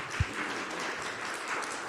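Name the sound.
applause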